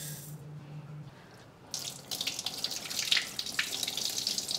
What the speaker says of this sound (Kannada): ಈಗ ನೀರು ಹಾಕ್ಕೊಳ್ಳೋಣ.